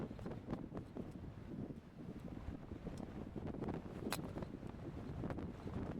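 Strong wind buffeting the microphone on an Irish links golf course, a steady low rumbling roar with gusty swells, loud and constant throughout with no voices.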